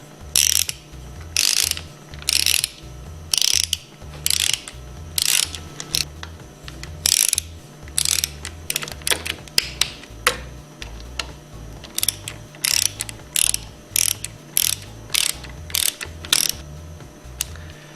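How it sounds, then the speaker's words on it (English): Ratchet wrench or Allen wrench torquing side cover bolts on a Hypro 2400 plunger pump, giving rapid repeated clicking bursts in steady rhythm, close and fairly loud, with no talk. "use your 1/4-inch Allen wrench and torque them between 100 and 110 inch-pounds"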